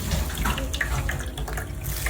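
Marinade draining from beef tapa, a steady close trickle of running liquid like a tap into a sink, continuous throughout with no talk.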